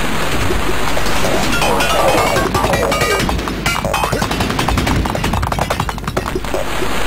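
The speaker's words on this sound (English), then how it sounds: "All the explosions, please." Rapid gunfire and explosions from the video game Trash It, a dense, loud barrage of cracks and booms that runs continuously throughout.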